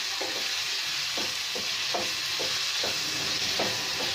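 A teaspoon of garlic paste is stirred into half-cooked potatoes in a frying pan, with a steady soft sizzle broken by about eight regular scraping strokes of a spoon against the pan.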